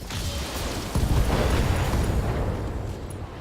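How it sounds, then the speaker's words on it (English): SRM ammo explosion on an enemy mech in the BattleTech video game, a loud dense blast that swells with deep rumble and crackling debris, then slowly fades over a few seconds. "got an SRM ammo explosion"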